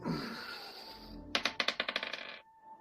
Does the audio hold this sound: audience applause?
no